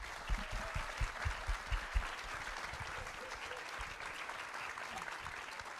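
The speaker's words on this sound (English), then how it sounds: "Let's give Dr. Pat Oka a big round of applause." An audience at a New College brunch event on the bayfront applauds, a moderately distant wash of clapping with a few louder close claps early on that settles into steady applause.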